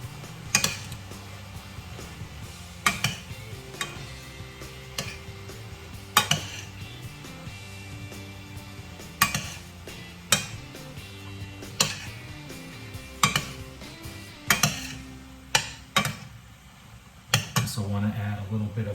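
Chickpea penne pasta is tossed with olive oil, giving repeated clinks and scrapes of a utensil against the pot or bowl at an irregular rhythm, close and moderately loud, with a low background hum.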